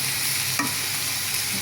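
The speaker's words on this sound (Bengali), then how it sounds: "একটু বেশি পরিমাণে পেঁয়াজ দিলাম, তাহলে করলাটা চিটা কম লাগবে" Bitter gourd and onions stir-fried in a pan make a steady sizzle, with one sharper scrape of the spatula midway through the short stretch. No voices.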